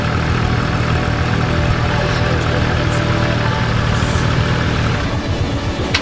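A Porsche GT3 engine idles with a low, steady exhaust rumble, then breaks into a few brief burbling pops toward the end.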